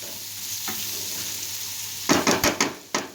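Potato and carrot curry sizzles softly in a pot, with steady frying hiss, then several sharp scraping and clinking stirs of a utensil against the pot near the end.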